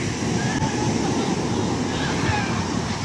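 Ocean surf at the shore in Dingalan, Aurora, a continuous loud rushing wash of waves mixed with wind buffeting the microphone, steady throughout.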